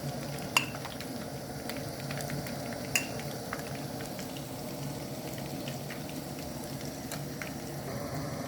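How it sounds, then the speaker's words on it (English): Korean honey butter chicken frying in hot oil, a steady soft bubbling sizzle that holds level throughout, with a couple of faint clinks of utensils. "now we are gonna start frying."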